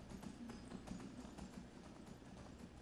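Horse hooves clip-clop in the video game Skyrim, a quiet, steady run of soft rhythmic thuds with no speech over them.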